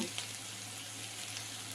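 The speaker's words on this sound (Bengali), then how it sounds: "হালকা ভাজা ভাজা করে নেব পেঁয়াজ আর রসুনটা" Chopped onion and garlic fry lightly in a pan, giving a soft, steady sizzle with no talking.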